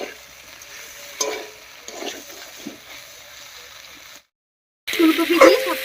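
Cauliflower being stirred and mixed in a frying pan with other ingredients, scraping and sizzling softly close by for several seconds, then a brief silent gap before louder sizzling and stirring resume.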